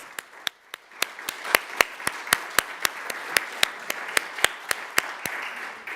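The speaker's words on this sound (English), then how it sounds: "just one more round of applause for all of the incredible companies in the Granite State and our finalists" Sparse, separate hand claps ring out one after another at an evening awards ceremony, a thin, uneven round from a small crowd that carries on for several seconds with no talking.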